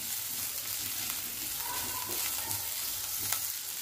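Vegetables with ginger and green chili frying in oil in a pan for momo filling: a steady, close sizzle with occasional stirring scrapes, no talking.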